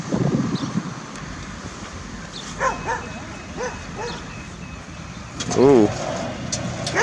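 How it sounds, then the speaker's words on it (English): A dog barks a few times at a distance amid gusty wind noise, and a person makes a brief exclamation. "Get a puppy dog protecting the land."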